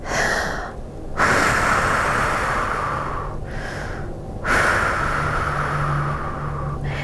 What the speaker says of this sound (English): Inhale and exhale and inhale. Pause on any spots. Deep breaths.